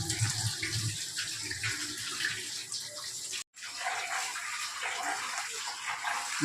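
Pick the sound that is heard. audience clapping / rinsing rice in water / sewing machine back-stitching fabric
rinsing rice in water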